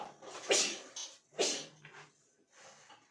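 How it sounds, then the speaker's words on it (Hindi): A woman cooking pumpkin curry in a home kitchen sneezes in short, sharp bursts, two strong close sneezes followed by softer snorting breaths. "ज़रा सा पानी में हाथ मारो और छींके शुरू हो जाती है।"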